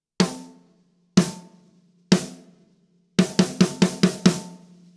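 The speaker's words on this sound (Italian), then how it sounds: "Nel momento in cui andiamo a suonare un rimshot" Rimshots on a snare drum, with the stick catching head and rim together: three sharp, ringing cracks spaced about a second apart, then a quicker burst of six, loud and close.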